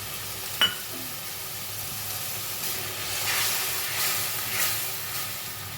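A soft, steady sizzle of whole green peas frying in a pan, with a brief clink near the start and gentle swells of hissing later.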